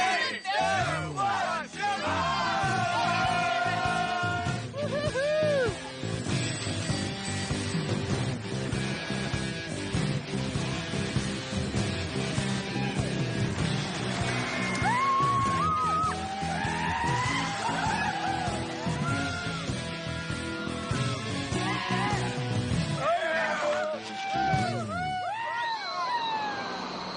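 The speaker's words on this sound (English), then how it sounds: "these guys are going to launch themselves down one of Portland's highest hills, in the dark and without using brakes" Riders race down one of Portland's highest hills at night without brakes, with loud rolling wheel noise and squeals, whoops and crowd shouts rising and falling over nearly half a minute.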